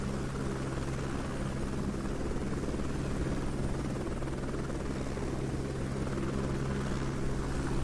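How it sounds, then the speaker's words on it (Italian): A helicopter in a video game drones steadily throughout, its constant rotor thrum and engine noise holding at a moderate, unchanging level with no talk over it. "Vediamo dove cazzo mi porto sto elicottero."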